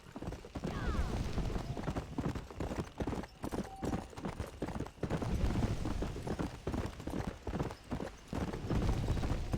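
Hooves clip-clop in a quick galloping rhythm in Red Dead Redemption, fairly loud and near, with a brief whinny and faint background sounds.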